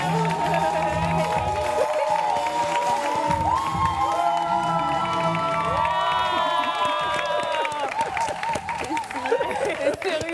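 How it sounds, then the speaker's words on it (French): A studio audience applauds and cheers loudly, with whoops and shouts over continuous clapping, a voice speaking through the noise at times. "Et ça t'applaudit."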